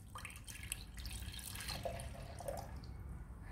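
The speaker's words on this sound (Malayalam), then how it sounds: "ഇനി ഓറഞ്ച് ജ്യൂസ് ഒഴിച്ചു കൊടുക്കുക." Orange juice pours into a clay pot already holding ice, a steady close trickle and splash of liquid running for a few seconds without a break.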